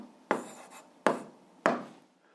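A pen writing an answer on paper, three quick separate scratching strokes spaced about half a second apart, close and quiet in an otherwise still room.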